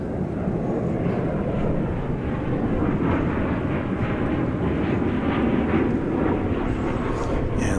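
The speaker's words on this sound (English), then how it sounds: "Here comes United Flight 1517. It's a 737-900." A United Airlines Boeing 737-900 jet roars at DFW Airport, a broad, steady engine rumble held close and loud throughout, no voices.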